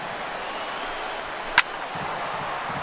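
A single sharp crack of a bat hitting a baseball in the MLB The Show 16 video game, one brief loud knock over a steady crowd murmur in a stadium.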